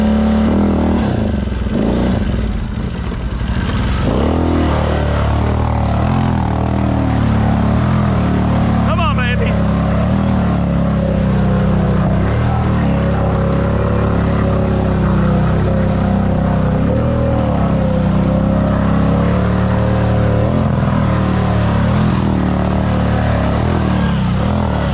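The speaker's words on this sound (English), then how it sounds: "You notice she's bounced off a rev limiter" Arctic Cat Mud Pro 1000 mud ATV engine revving hard and bouncing off its rev limiter, a loud sustained buzzing roar with a sharp stutter partway through, close up with no talk over it.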